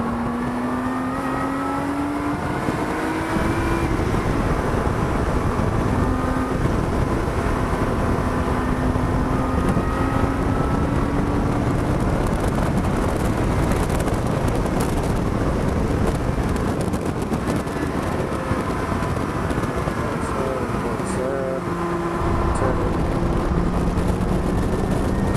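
A Lotus 3-Eleven on a race track, its Toyota V6 engine roaring loud and close, climbing through the revs and dropping between gear changes in a steady stream of engine noise with no voices.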